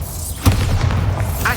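The Bombarda blasting spell from Hogwarts Legacy lands as a single deep, booming thud with a whooshing, shimmering tail, fairly close and loud.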